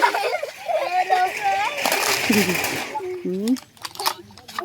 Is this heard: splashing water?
yes